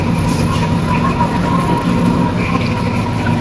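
A diesel locomotive of The Overland interstate passenger train idles at platform 2 of Southern Cross station in Melbourne, a steady loud low rumble with constant engine drone throughout.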